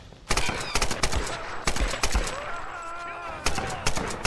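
Machine gun fire in the video game Tomb Raider (2013), loud bursts of rapid shots cracking in close succession, with brief gaps and overlapping echoes.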